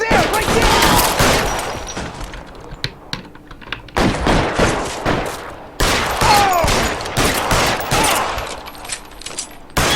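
Bursts of gunfire in an L.A. Noire shootout: loud, dense volleys of rapid shots, briefly easing near the middle before firing picks up again.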